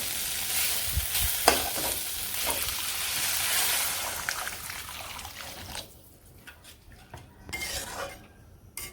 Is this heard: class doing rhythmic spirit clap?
no